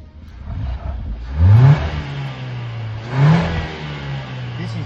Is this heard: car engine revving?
yes